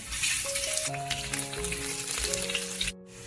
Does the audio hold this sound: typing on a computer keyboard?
no